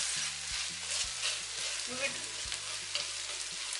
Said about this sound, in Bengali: ডিমটাকে একটু ঝুরা ঝুরা করবো, ছোট ছোট টুকরো করে ফেলবেন